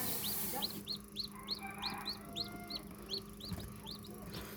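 Newly hatched chicks fresh from an incubator peep in a rapid run of high, bright chirps, repeated steadily and close by over a low background hum.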